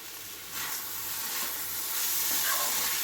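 Curry leaves and pav bhaji masala sizzling steadily in hot oil during rice cooking, a continuous frying hiss that grows slightly louder and brighter partway through, with no talking.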